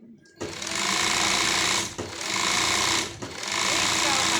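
A sewing machine runs loudly up close while stitching an elastic waistband into trousers. It makes a fast, steady mechanical chatter in three long bursts with brief pauses between them, and someone talks over it.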